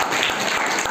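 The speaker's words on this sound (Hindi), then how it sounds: "तारीफ करेंगे जोर से पहले प्रभु के लिए, तालियों के साथ" Church congregation clapping loudly together, dense continuous applause filling a large room for the whole moment, with no voices standing out.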